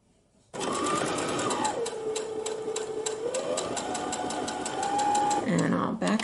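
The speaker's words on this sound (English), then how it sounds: "we're going to sew with 1/4 inch seam allowance right along that edge" A sewing machine runs steadily for several seconds, stitching a knit V-neck neckband seam at a quarter-inch allowance, with its motor whirring loud and close and changing pitch as the speed shifts, then a brief slowdown at the end.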